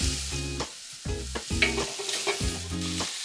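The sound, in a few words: beef short ribs searing in smoking hot oil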